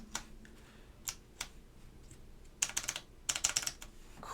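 Keystrokes on a Hex.3c mechanical keyboard fitted with Alps SKCM White switches: a few sparse, crisp clicks early on, then two quick bursts of faster clacking, close and fairly quiet, with no voices.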